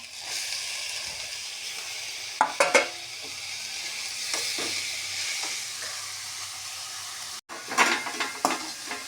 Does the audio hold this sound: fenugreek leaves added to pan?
yes